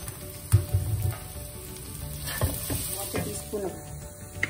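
Onion with ginger garlic paste sautéing in a pan for a chickpea masala gravy, a steady soft sizzle broken by a few stirring scrapes, close and moderately quiet with no talk.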